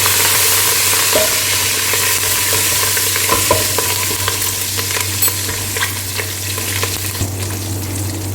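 Curry leaves and Kashmiri chili powder fry in a pan, giving a loud, steady sizzle close by with scattered light stirring scrapes over a low constant hum.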